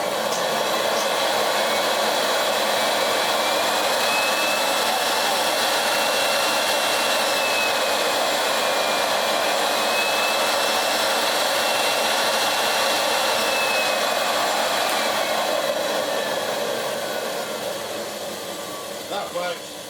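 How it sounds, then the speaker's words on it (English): Motor of a restored 1970s Bloover 6525c vacuum cleaner running on its speed switch with the brush bar removed, a loud steady high whine and airy roar that continues unbroken before easing slightly at the end. "The motor's going to sound a bit iffy because it's not got the drag from the brush bar on it."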